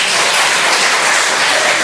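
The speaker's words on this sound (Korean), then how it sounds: "이런 얘기하면 박수 쳐주는데" Applause from a church congregation, a dense, steady wash of clapping hands that holds evenly at close range with no break.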